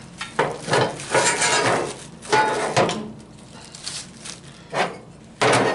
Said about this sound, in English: now let's install the grease trap